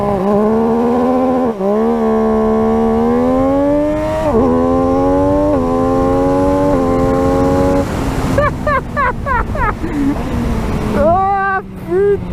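An MV Agusta Dragster 800 RR three-cylinder motorcycle makes a launch-control start, its loud engine note climbing through several rising gear pulls, then backing off into sharp revving blips near the end.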